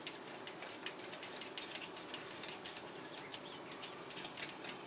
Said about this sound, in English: take your 7/8 inch ratchet, put it on tighten, and tighten it down.